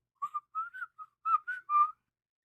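A little whistled melody from a paranormal voice recording in a home kitchen, seven pure, high notes rising and falling in a quick phrase, clean and isolated with silence between notes.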